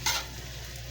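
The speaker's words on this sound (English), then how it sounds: "I've got yellow onions, red onions, and scallions in here. And we're just going to saute all of them together." Yellow onions, red onions and scallions sauteing together in a pan, a steady close sizzle with a brief stir at the start, no talking.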